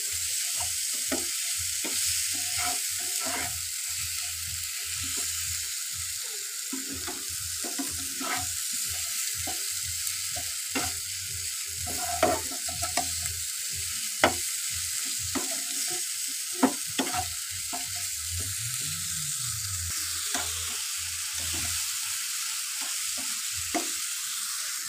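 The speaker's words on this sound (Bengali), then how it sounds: "এবারে দিয়ে দেব হলুদের গুঁড়ো ও স্বাদ মতো লবণ। ভালো করে নেড়ে চেড়ে নেব। মশলাটাকে ভালো করে কষিয়ে নেব।" A turmeric and salt spice paste fries in hot oil for a Bengali mustard fish curry, giving a steady, close sizzle. Repeated scraping strokes of a spatula stir it in an uneven rhythm throughout.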